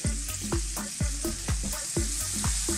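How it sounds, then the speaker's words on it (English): Scallops fry in a pan with ginger and black pepper, giving a bright, close sizzle broken by rhythmic scraping stirs about every half second. "Now I just want to fry this for about another 60 to 90 seconds."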